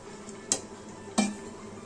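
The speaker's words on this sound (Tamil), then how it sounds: "நல்லா மிக்ஸ் பண்ண போகிறேன்" Food being mixed by hand in a bowl in a home kitchen, with two short, soft scraping knocks about half a second apart against a quiet background.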